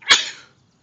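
A single sharp sneeze bursts out, loud and close, then trails off quickly into near silence.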